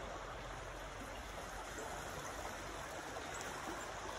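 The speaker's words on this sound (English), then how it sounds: "I love that little creek that flows through." A small creek flows beneath an old covered bridge, giving a steady, soft broadband rush of running water that holds even throughout with no voices.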